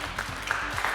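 An audience at a Russian televised quiz show, Наследники победителей, claps in a brief, dense, steady burst of applause.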